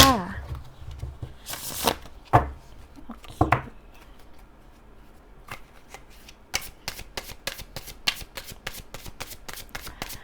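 Tarot cards being shuffled by hand in a quiet room, a burst of riffling early on followed by a long run of quick, crisp flicks of the deck, close and fairly loud, with a voice briefly at the start.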